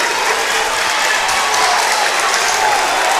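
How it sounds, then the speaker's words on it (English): A home crowd at a high school boys' basketball game, North Adams hosting Portsmouth West, cheers and claps in a loud, continuous roar of hollering and applause filling the gym. "North Adams crowd coming alive."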